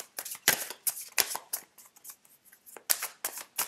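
A deck of tarot cards being cut and handled, giving a quick series of crisp papery snaps and shuffling rustles, close and fairly loud, with no talking.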